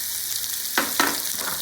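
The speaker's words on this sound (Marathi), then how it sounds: "बारीक चिरलेला कांदा, आणि कांदा मस्त असा गुलाबी होईपर्यंत आपल्याला परतून घ्यायचा आहे" Finely chopped onion, with asafoetida and curry leaves, sautés in a pan with a constant bright sizzle, broken by two quick stirring scrapes near the middle.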